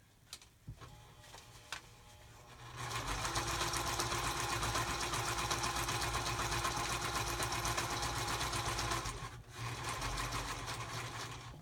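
A sewing machine stitches around the edges of a paper page, starting with a few light clicks and then running at a steady, fast, continuous whir that dips briefly before carrying on, close and clear with no talking.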